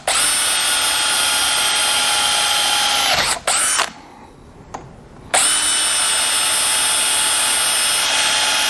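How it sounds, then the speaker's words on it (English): A power drill bores into metal held in a vise in a garage, a loud, steady high whine that cuts out briefly twice before running on. "I'm going to use my tool here to make a couple of places for me to drill."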